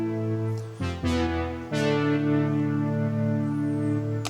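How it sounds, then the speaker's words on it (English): A sustained Analog Dreams synth pad layered over other synths in an amateur cover of a song, holding rich steady chords with a few shifts at about the first and second marks, loud and without voices. "And then I have this synth on top of that, another Analog Dreams one."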